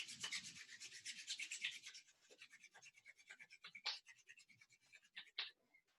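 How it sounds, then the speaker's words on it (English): Palms of the hands rubbing together during a guided throat chakra meditation, a soft, close, dry brushing that is steady at first and then breaks into short scratchy strokes, faint and quiet throughout. "Begin to rub the palms together."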